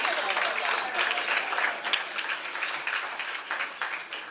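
A crowd at a design presentation event claps steadily and evenly, a continuous wash of applause lasting a few seconds with no speech over it.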